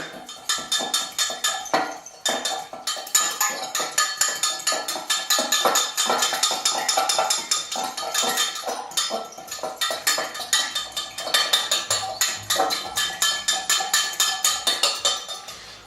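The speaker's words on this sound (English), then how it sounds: "Now I like to mix this one with a fork." Fork clinking and scraping rapidly against a bowl while pizza dough ingredients are mixed, a steady close run of sharp metallic taps with no talk.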